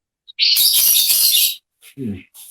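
A bird calls with bright, high chirps in a short burst, followed by brief fainter calls, heard close and fairly loud, with a short low voice sound in between.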